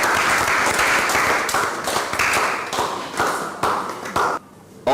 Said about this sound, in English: Shall we clap for them as they take their seat?